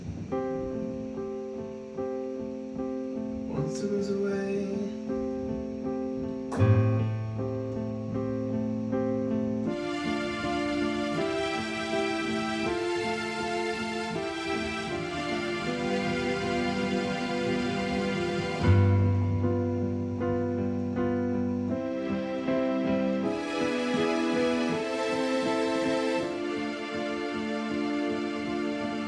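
Keyboard piano chords with a lush string layer swelling underneath, playing a song, steady and full, building in brightness across the passage with no talking.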